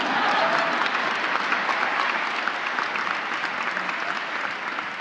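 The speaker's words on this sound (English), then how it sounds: "You can clap for that." Audience applause at the Grammys ceremony, loud and steady throughout, a dense wash of many hands clapping that eases only slightly toward the end.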